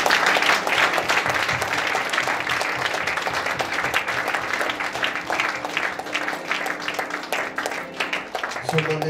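Church congregation clapping to welcome the bishop, a steady crowd applause mixed with voices and a low hum, fading somewhat toward the end.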